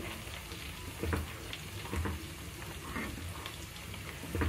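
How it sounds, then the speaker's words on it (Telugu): Semolina is poured into a pan and stirred, giving soft sizzling and scraping with a few rhythmic stirring strokes at close range, fairly quiet, without speech. "నేనే తీస్తూ వీడియో చేస్తున్నానండి, అందుకనే రవ్వ ఒకసారి పోసేస్తున్నాను"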